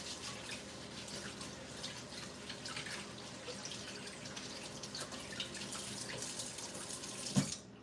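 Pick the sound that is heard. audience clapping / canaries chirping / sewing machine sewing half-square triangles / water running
water running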